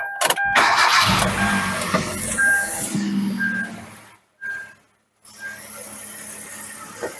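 A car engine cranks and fires up during an ignition coil check, then settles into a steady running idle, heard close, with a brief cutout midway and a high electronic beeping tone recurring over the engine.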